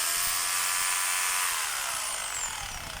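A DeWalt D25033 rotary hammer, its selector faulty, runs at a steady high-pitched electric whine that slowly winds down in pitch near the end, loud and close with no talking.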